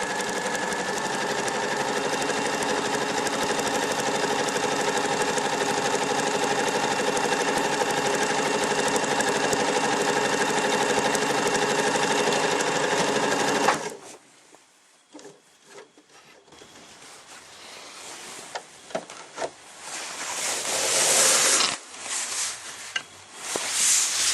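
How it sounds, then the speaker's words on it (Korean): An Elna 2600/2800 sewing machine stitching a round piece of fabric on its free arm, a loud steady mechanical whir with even rapid needle chatter that stops abruptly, followed by quieter handling clicks and rustles. "넣으시고 노루발을 내리시고 재봉을 시작합니다."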